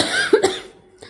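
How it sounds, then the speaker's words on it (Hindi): A dry cough, two quick close barks in succession, near and fairly loud, with no talking. "खांसी भी हो रही है आज बहुत ज़्यादा, पता नहीं बिल्कुल ड्राई वाली खांसी हो रही है।"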